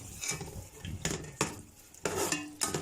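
Spoon stirring sarson ka saag, mustard greens cooked with a little oil in a pan, with several sharp scraping knocks of utensil on metal over a faint background sizzle; no talking.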